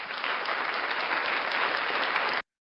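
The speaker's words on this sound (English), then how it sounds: "round of applause for Kfar." Applause from a crowd, a dense, even roar of clapping that holds steady for a little over two seconds and then cuts off abruptly into silence.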